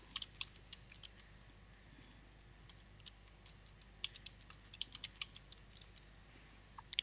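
Computer keyboard keys tapped to enter a password while setting up vCenter Server in VMware Workstation, a fairly quiet run of irregular light clicks with short pauses over a low steady hum.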